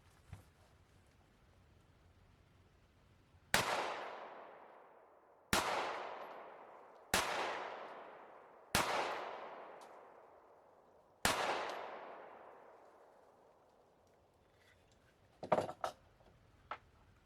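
Five sharp, loud gunshots from hand-loaded lead-free rounds fired at a steady pace outdoors, each ringing out with a long decaying echo, followed by a couple of faint clicks.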